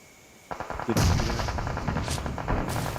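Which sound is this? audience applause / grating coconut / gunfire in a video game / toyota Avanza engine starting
gunfire in a video game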